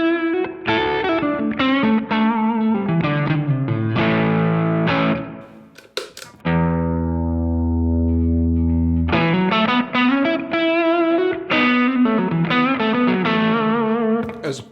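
Electric guitar through a drive pedal set for subtle overdrive, with sustained, lightly distorted chords and single notes ringing loud and close. A long held chord swells through the middle before the strumming resumes, with no talking.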